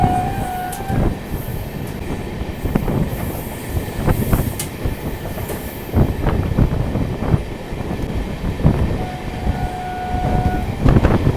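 Ganga Sagar Express with LHB coaches running through a left-hand curve, steady rumbling rail noise with rhythmic wheel clacks and intermittent high squeals of wheels on the bend, no voices.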